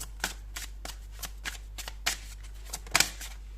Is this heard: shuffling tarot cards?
yes